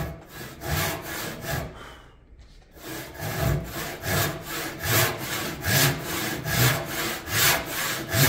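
A hand saw cuts through wood in steady back-and-forth strokes, each rasping pass rising and falling in a regular rhythm after a brief pause near the start.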